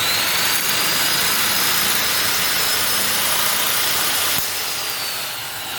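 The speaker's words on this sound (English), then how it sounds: "that's the proper safe use of using the power shear" A handheld power shear slices through clamped sheet metal with a steady, loud, harsh whir that runs about four seconds, then cuts off abruptly and tapers away.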